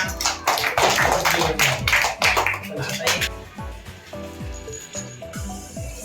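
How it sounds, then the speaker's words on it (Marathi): Children in a classroom clap their hands together in a quick, rhythmic burst lasting a few seconds over a tonal background, then the clapping fades to quieter sounds. "10 साठी टाळ्या वाजूया"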